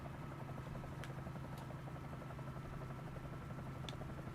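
Steady droning engine and rotor hum of a Bell 47J Ranger helicopter in Microsoft Flight Simulator, continuous and even at moderate level, alone without talk.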